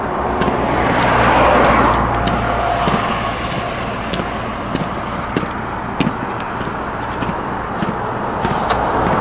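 A Ford police car drives past on a road near the Russia–Belarus border, a broad rising and fading engine and tyre rush up close, followed by quieter traffic rumble and scattered clicks, with no voices.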